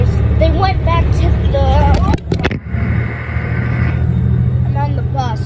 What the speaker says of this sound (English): I'm on the bus, so that's why I'm doing this. It is very loud